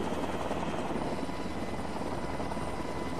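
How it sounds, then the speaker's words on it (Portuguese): A police helicopter flies over a national sequoia forest, its steady rotor and engine roar dense and continuous throughout, loud and close with no other sounds. "Uma equipe salta do helicóptero para se encontrar com os agentes"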